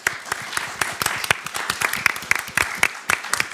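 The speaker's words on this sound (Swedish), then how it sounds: "Sen tycker jag att vi ger panelen en stor applåd" Audience at a Swedish panel discussion on the future internet applauds, a dense run of sharp claps sustained through the whole stretch at steady moderate loudness.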